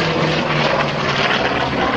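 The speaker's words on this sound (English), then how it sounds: "Meanwhile, turning slowly and turning huge propellers." Vintage naval aircraft at the Duxford Flying Legends air show turn huge propellers, producing a loud, continuous engine drone with a steady broadband roar throughout, no voices.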